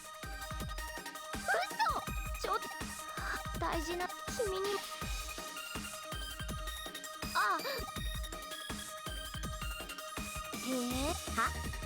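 A cell phone ringtone plays in the video game Digimon Cyber Sleuth, a repeating electronic melody running under game music and frequent talk.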